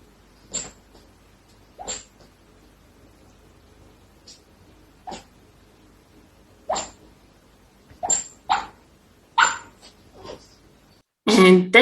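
Pet dog dreaming indoors, giving a scattered series of short, faint yips, huffs and muffled woofs at irregular intervals over quiet background, with a louder burst at the end.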